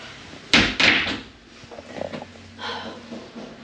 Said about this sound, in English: I'm going to shut the door.